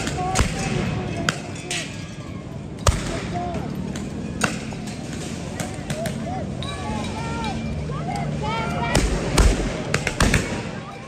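LAPD officers fire chemical weapons, heard as scattered sharp pops and thuds spread irregularly over a noisy street scene with people talking and shouting throughout.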